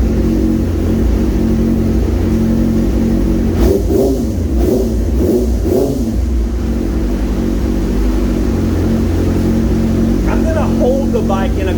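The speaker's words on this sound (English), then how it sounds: "Just listen to the engine and how it just kind of chugs along and struggles just to maintain speed." Yamaha R6 sport motorcycle engine running on a dyno with a rough, lean-sounding tune, a steady loud drone that chugs and struggles to hold speed, with a few surging revs in the middle and a voice talking over it.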